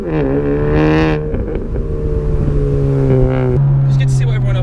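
A Honda Civic Type R engine revs with a throttle blip, a loud close engine note that rises and falls, with a voice talking over part of it.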